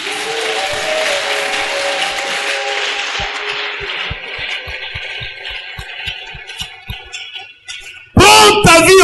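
A church congregation claps and cheers in applause, loud and full at first, then fading into scattered sharp claps before a burst of loud sound at the end.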